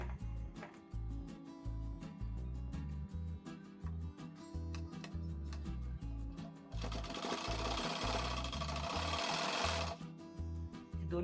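A sewing machine stitches newborn baby clothes with a fast, steady mechanical chatter, running continuously and growing louder and busier toward the end.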